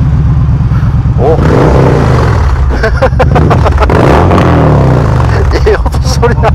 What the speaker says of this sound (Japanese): ちょっとエンジンかけましょうに。